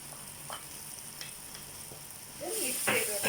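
Sausage going into a pan of noodles: a soft sizzle with scattered stirring clicks, then the frying swells louder near the end as the pieces hit the hot pan, with no talk.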